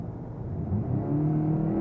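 VW Golf GTE plug-in hybrid switching to its petrol engine in GTE mode, accelerating with a throaty, rising engine note heard from inside the car, steady and moderately loud throughout.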